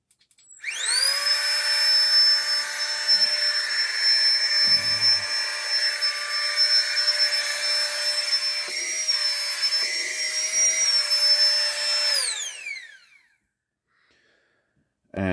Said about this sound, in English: Otherwise, it is a double click to activate the pump.